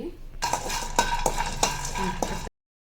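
Peanuts stirred in a pan over a low flame, rattling and scraping with sharp clinks from a spoon against the pan every half second or so, close and steady, then abrupt silence.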